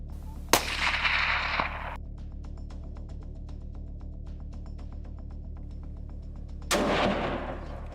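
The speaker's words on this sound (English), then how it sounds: "Using a sniper rifle on these locations will not hurt them in the long run." Two sharp, heavy sniper rifle reports ring out about six seconds apart, each with a short rolling tail, while a low steady hum fills the gap, from shooting used against wild animals on farmland.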